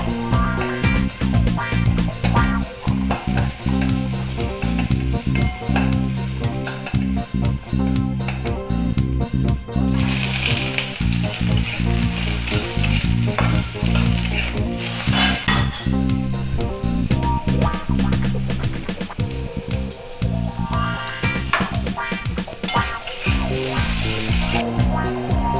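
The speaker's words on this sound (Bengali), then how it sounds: "আমি এই ওল আর আলুগুলো ফ্রাই করে নেব।" Potatoes fry in mustard oil with a steady crackling sizzle throughout, broken by occasional stirring and clinks from the pan, heard close and fairly loud.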